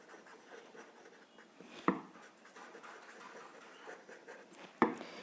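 A pen writes on paper while someone works through a class 9 maths geometry problem: quiet, close scratching strokes with two sharper taps standing out.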